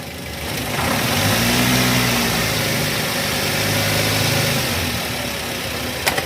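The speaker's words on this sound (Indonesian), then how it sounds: "Dengan menaikkan putaran mesin atau RPM mesin," A car engine idles and then revs up and holds at higher RPM during an alternator and regulator charging-system test, a steady close drone with rising and falling pitch, no voices.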